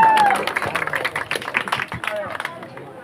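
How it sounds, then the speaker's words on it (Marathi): Loud applause and clapping from an audience at a Navratri festival Paithani programme in Mandangad taluka, dense and continuous for about three seconds before thinning, with crowd babble mixed in. "जोरदार टाळ्या एकदा"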